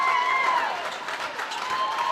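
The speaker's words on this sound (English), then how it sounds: "And the team erupts and celebrates." Home crowd applauding and cheering as a high school basketball team celebrates winning a bi-district championship, a dense, steady roar of clapping and voices filling the gym.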